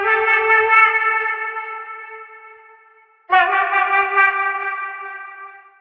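Two sustained sung or synth-like vocal notes, the second entering abruptly after a fade, with a shimmering, doubled chorus quality and echo.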